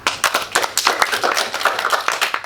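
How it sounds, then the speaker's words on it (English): A small group of young schoolchildren clap for a classmate at an honours presentation, with sharp, uneven clapping close by that runs for a couple of seconds and has no talk over it. "Let's give him a clap."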